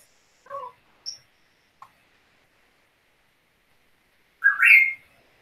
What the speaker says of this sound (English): you hear that noise in the background? That's a bird. That's a very excited bird.